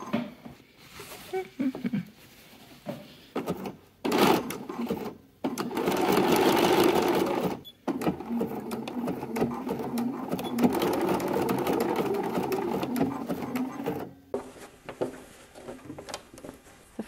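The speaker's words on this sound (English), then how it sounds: "Gonna stitch back down till we get to this little raw edge, and that's where we're gonna switch to our zigzag" Sewing machine stitching boxer shorts, switching to a zigzag stitch along a raw fabric edge: close whirring runs of several seconds broken by short pauses and small handling clicks, with no talk.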